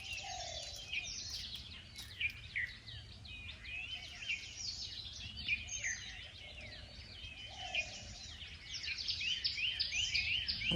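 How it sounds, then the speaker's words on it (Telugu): Various forest birds call at dawn near a campsite, repeated bright chirps and trills mixed with low dove-like coos recurring every few seconds, fairly faint over a soft ambient bed with no talking. "పొద్దున్నే లేచి ఇట్లా పక్షుల అరుపులతో లేస్తే అసలు మస్తు ఉంటుంది నిజంగా."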